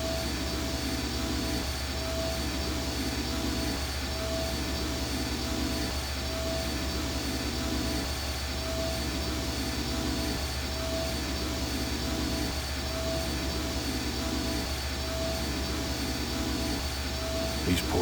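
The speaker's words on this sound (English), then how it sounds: "This engine isn't as ruggedly built as it first looked." A machine engine in the video game I Have No Mouth and I Must Scream runs with a loud, continuous roar and a faint regular pulsing throb that holds steady throughout.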